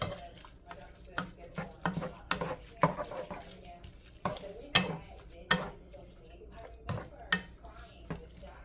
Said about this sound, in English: This is just 3/4 cup of long grain rice. Go ahead and mix that up real quick.